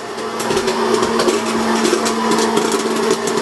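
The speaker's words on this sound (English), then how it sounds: "we can hear the popcorn's going" Popcorn popping as it is being made in a kitchen, a steady dense crackle under a constant humming machine drone, loud and continuous with scattered sharper pops.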